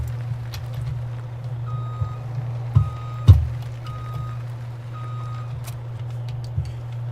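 Reversing alarm beeping steadily from a truck in Farming Simulator 17, over a constant low diesel engine drone, with a couple of brief clunks partway through.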